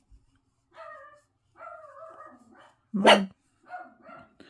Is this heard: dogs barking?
yes